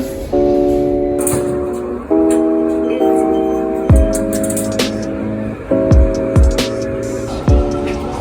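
A tram rumbles past with repeated bright electrical tones and clanking thumps, steady mechanical noise throughout, no speech.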